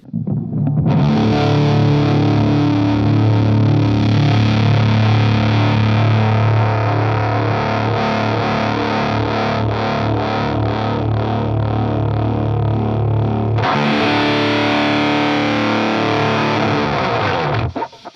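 Electric guitar through a Joyo Voodoo Octave Fuzz pedal plays a loud, saturated sustained chord while the tone control sweeps from dark to bright, then a second strum rings out before cutting off.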